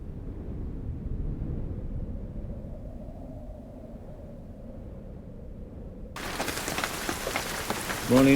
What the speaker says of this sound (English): I'm sure you can hear that. Yep, it's raining. Not just a bit, but quite a bit.